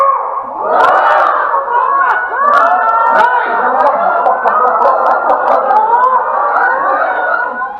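A crowd of people loudly imitate chicken clucking and squawking together, a noisy, continuous chorus of voices mimicking fowl.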